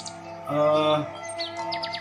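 Murai batu (white-rumped shama) singing, with a clear, loud whistled phrase followed by rapid, rising chirps and tweets, close and alone.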